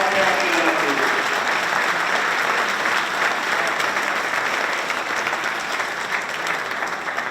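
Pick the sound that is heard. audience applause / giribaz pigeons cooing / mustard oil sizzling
audience applause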